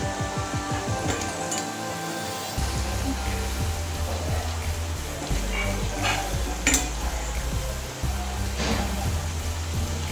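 Grated paneer sizzles in a thick gravy in a pan while a spoon scrapes and stirs it in steady strokes, close and continuous, with a few metallic taps against the pan.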